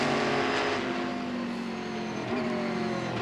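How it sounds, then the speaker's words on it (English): A race car at the Rolex 24 at Daytona screams near its rev limit, a loud sustained high-pitched engine howl with slight pitch wavering from a broadcast feed. "he's running that car right up on the rev limit"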